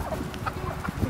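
Chickens and roosters clucking around people in a farmyard, a dense jumble of short calls close by, continuing steadily through the moment.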